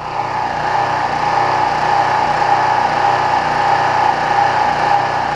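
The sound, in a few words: small gasoline engine running, nearly out of gas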